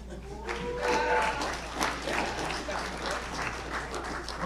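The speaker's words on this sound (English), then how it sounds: "I got a very loud applause from the Billet children back there" Loud, sustained applause from a crowd at a hockey draft commencement ceremony, dense clapping rolling on steadily with a voice briefly audible near the start.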